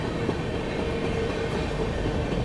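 The Lucknow Shatabdi Express 12003 runs toward Unnao junction, heard as a steady, close rail rumble with faint clickety-clack from the wheels throughout.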